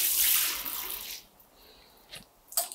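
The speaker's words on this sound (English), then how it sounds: "the exposed shower system's handheld shower is quite powerful for its size, and it spreads in a nice burst" A powerful handheld shower head on an exposed shower system sprays in a broad hissing burst that fades after about a second, followed by a few faint drips and clicks.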